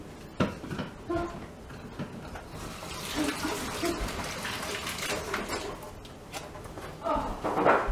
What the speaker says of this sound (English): Now let me wash my hands a moment.